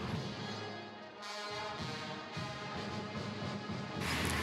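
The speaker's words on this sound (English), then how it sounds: "What you're hearing right now is our university band." A university band plays entrance music in a dense, loud, brassy wash with crashing cymbals and drums, muffled and distant amid crowd noise.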